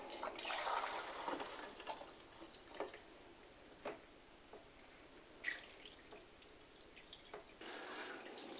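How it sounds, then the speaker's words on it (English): Water from a hose runs into a film developing tank to rinse it: faint trickling with scattered drips and splashes, fairly quiet and uneven in level. "So I'm going to stick a hose in there and rinse it out for about 10 minutes."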